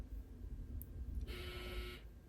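A clothes dryer buzzer sounds once, a short tonal drone lasting under a second, faint against a low background hum.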